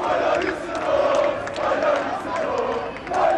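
Football fans at a Samandıra training session chant in unison for Christian Baroni, a loud, rhythmic crowd chant rising and falling in repeated waves.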